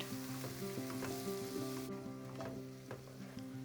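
Two medium chopped tomatoes sizzling in a pan for a mushroom curry, a steady, close crackle and hiss, with a soft background hum and faint stirring clinks throughout.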